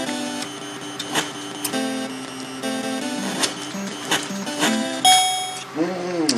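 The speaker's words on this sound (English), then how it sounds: "Saved by the bell." A round-ending bell rings in the Mike Tyson's Punch-Out video game, several bright dings layered over chiptune music and game effects.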